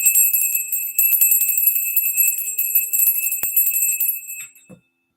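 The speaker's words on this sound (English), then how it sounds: "This bell is for the third eye." A bell for the third eye chakra rings once, bright and sustained, its shimmering tone holding steady before fading out to silence, with a faint tap partway through.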